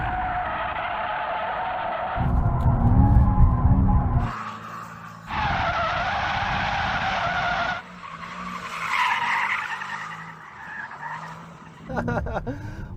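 A Mercedes-AMG E63 S drifts on a track in drift mode with its rear tyres squealing loudly in long sustained bursts over a roaring engine, the pitch shifting as the car slides and recovers.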